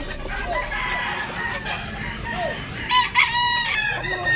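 A rooster crows at a busy poultry market in Tabunok, Cebu, its loud drawn-out call rising over the crowd noise and other fowl clucking nearby, with no talk during the call.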